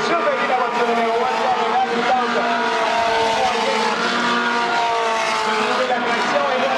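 Race cars roar around a track in a continuous, loud blend of high-revving engines, with the pitch shifting as cars jostle for position. A commentator talks over the engines the whole time.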